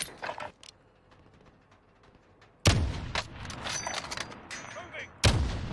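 Distant gunfire in the Call of Duty Warzone battle royale, with a few muffled shots early on, then two sharp, loud bursts after a quieter stretch, set against faint background clatter.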